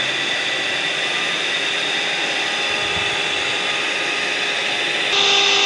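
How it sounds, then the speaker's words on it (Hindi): An electric beater whirs steadily through cake batter while sugar is added, a loud, constant high-pitched motor drone that steps up in speed near the end. "इस तरह से हमने बीट करते जाना है इसको अच्छे तरीके से, आहिस्ता आहिस्ता तेज़ करते जाएंगे"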